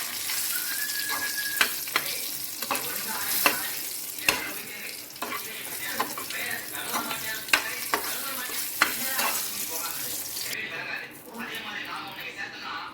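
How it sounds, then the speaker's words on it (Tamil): Dried red chillies frying in a pan with softened tomatoes for a garlic chutney, a steady close sizzle with stirring clicks and scrapes throughout. "இது கூட காஞ்சி மிளகாய் போட்டு வறுத்துக்கிறோம்"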